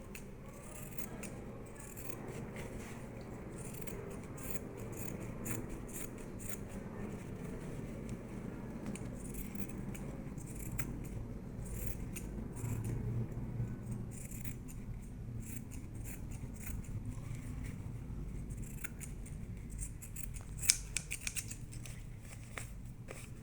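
Scissors cut through felt in quick, repeated crisp snips, close and fairly quiet over a low background rumble, with one sharper click near the end.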